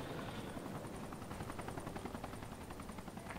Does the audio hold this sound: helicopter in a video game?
yes